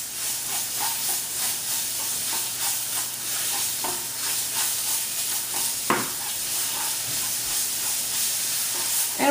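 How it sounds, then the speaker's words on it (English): Meat filling stirred with a spoonful of tomato paste in a hot pan, giving a steady close sizzle and hiss with a few scraping stir strokes throughout, no voices. "Give it a good mix."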